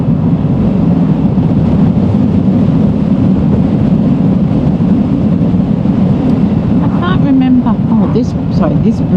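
Heavy wind buffets a helmet microphone while riding a Vespa scooter across a bridge over water, a loud continuous roar with engine drone underneath and a few faint chirps near the end.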